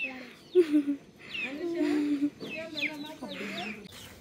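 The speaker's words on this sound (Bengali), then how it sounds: "এই যে মুরগিগুলা সব একসাথে জড়ো হয়ে গেছে, ঘরে যাইতো" Chickens cluck in a village yard at dusk as they gather to go in for the night, short repeated clucks and calls at close range, mixed with people talking.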